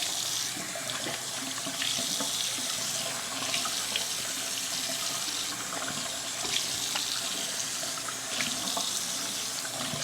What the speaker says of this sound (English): We're gonna fill our sink basin up with some water.